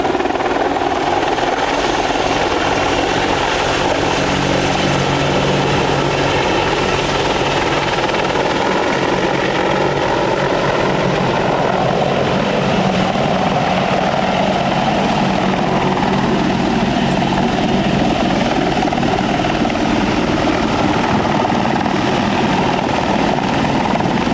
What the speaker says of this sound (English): Lateral acceleration in the AH-64.